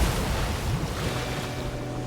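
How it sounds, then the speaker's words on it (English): Strong gusting wind buffets the microphone at a seaside breakwall, a loud, continuous low roar with surf-like rush and no pauses. "bloody hell, it's windy as"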